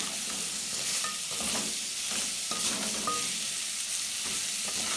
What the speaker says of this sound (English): let me first put in the onions so that I can allow them to brown